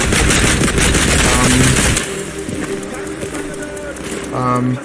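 A machine gun in the WWII shooter Land of War fires a rapid, loud burst of close shots for about two seconds, then the game's background noise and talk continue.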